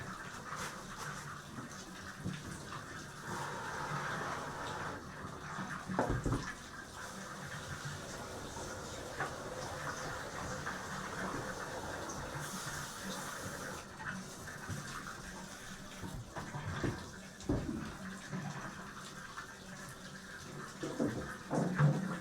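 Water sloshing and washing gold-scraped material from a rock tumbler, a continuous, fairly faint splashing and rinsing with occasional louder swirls and knocks throughout.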